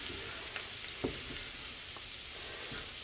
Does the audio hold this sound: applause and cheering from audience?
no